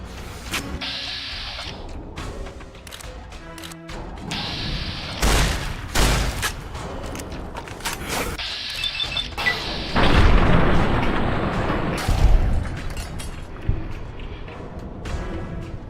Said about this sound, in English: I'm just gonna shoot him with the shotgun